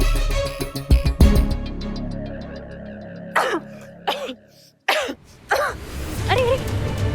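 Several coughs and throat-clearing sounds spread out with pauses between them, close and moderately loud, after an opening stretch of busier background noise.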